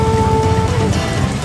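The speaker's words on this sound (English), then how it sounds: "It's still raining." Rain pours steadily at a Vietnamese night market, a dense hiss of falling water mixed with low background rumble, loud and continuous throughout.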